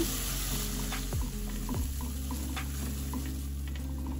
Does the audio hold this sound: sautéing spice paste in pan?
yes